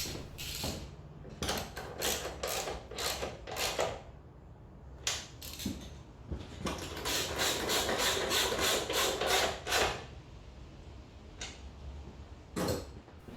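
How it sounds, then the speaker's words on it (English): A 13mm socket ratchet bolts a 125cc motorbike seat back on, giving bursts of rapid, close clicking ratchet strokes in uneven runs with short pauses between them. "Now fit the seat back on and bolt it up using a 13mm socket."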